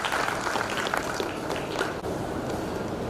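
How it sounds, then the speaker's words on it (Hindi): An audience claps to welcome a guest at a stress-relief program gathering in Srinagar Garhwal, Uttarakhand, a dense, steady wash of many hands applauding throughout, fairly loud and continuous in a large room. "सभी जोरदार तालियों से स्वागत देंगे"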